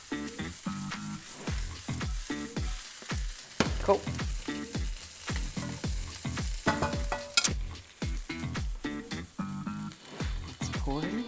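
Spinach and eggs sizzle steadily in a frying pan for a breakfast casserole, a constant crackling hiss broken by scraping stirs, with a voice speaking briefly over it.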